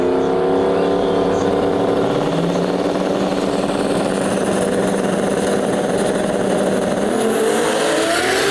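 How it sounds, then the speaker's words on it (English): A Datsun 280Z with a 2JZ or RB26 engine drag races on a street-class track, a loud sustained engine roar climbing in pitch through gear changes as it accelerates away. "a Datsun 280Z. Sounds like it's either 2JZ powered or like RB26 powered."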